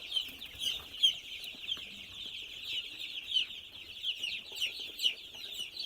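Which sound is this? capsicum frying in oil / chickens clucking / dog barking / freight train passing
chickens clucking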